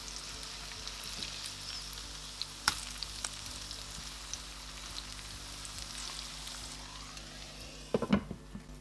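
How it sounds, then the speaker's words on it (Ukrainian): Cabbage and chicken cutlets frying in a covered pan, a steady soft sizzle with a few faint clicks and a louder clatter near the end. "Смажитимемо наші котлети до утворення золотистої рум'яної хрусткої скоринки з обох боків."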